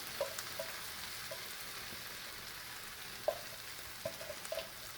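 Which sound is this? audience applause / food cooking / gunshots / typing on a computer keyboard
food cooking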